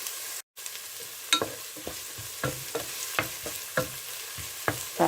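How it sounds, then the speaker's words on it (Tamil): Chopped onions sautéed in a pan, a soft steady sizzle punctuated by repeated scraping clicks of a stirring spatula, fairly quiet and close with no talking. "முதல் நான் வெட்டி வச்சிருக்கிற வெங்காய துண்டுகள் எல்லாம் போட்டு கொஞ்ச நேரம் வதக்குறேன்"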